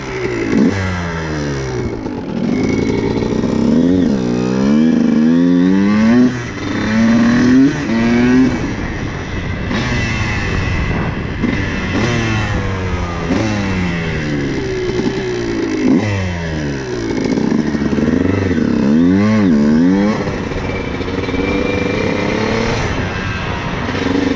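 A CR125 dirt bike or 400EX quad rides along a road to warm up, its engine revving and shifting through rising and falling sweeps, loud and close for the whole stretch with no talking.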